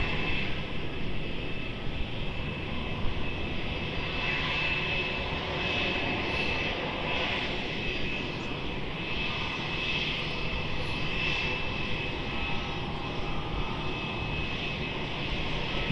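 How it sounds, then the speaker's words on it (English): Engines of a Malaysia Airlines Airbus A330neo at Melbourne Airport give a steady, even jet roar throughout, with no change in loudness. "The Malaysia 330 Neo."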